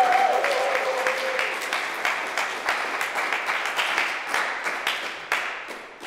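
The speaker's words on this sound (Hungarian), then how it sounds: "köszöntsük egy nagy tapssal a polgármester" A village audience breaks into sustained applause to welcome the mayor, a dense wash of many hands clapping at steady loudness for several seconds, with a faint voice briefly at the start.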